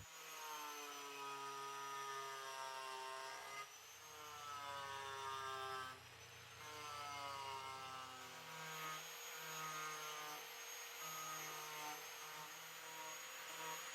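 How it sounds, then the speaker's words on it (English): A power grinder fitted with a sculpting blade carves a white oak barstool seat, giving a faint, steady whining drone whose pitch shifts a few times. "we're going to be using a power grinder with a sculpting blade in it"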